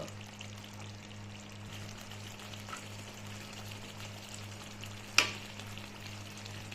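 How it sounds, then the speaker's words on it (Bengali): Chicken and potatoes sautéing in a pan for chicken dak bungalow, a steady close frying sizzle with a low hum underneath and one sharp clink of a utensil near the end; no one speaks. "দেখুন চিকেন সবকিছু ভালো করে কষিয়ে নিয়েছি"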